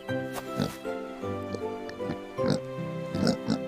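A pig grunts and oinks several times in short, snuffling bursts over a continuous tonal background, fairly close and moderately loud.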